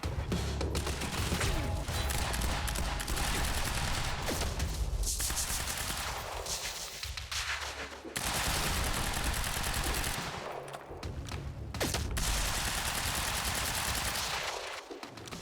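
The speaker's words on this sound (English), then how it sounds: "He's shooting me with a lot of bullets." Sustained enemy gunfire in the video game Quantum Break, loud rapid automatic bursts nearly continuous for the whole stretch, with brief lulls between volleys.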